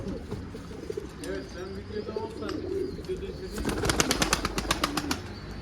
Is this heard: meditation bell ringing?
no